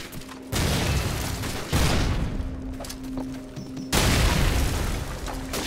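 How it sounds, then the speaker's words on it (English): An RPG rocket explosion in Call of Duty 4 hits as a heavy, loud boom with a long rumbling tail, followed by a second big blast a few seconds later, with no voices. "he RPGs me"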